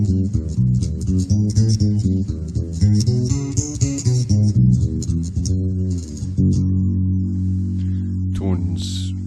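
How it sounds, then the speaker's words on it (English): A dry electric bass, a Gazzbass Scarab Series II Standard on its back pickup in parallel mode, plays a quick run of low notes, then holds a sustained low note that rings out, with no other instruments. "I will play it dry though"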